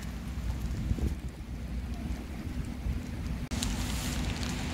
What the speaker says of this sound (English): Do you hear the rain getting heavier?